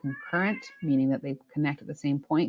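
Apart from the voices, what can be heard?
cat meowing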